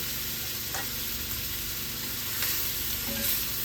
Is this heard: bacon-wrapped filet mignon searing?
yes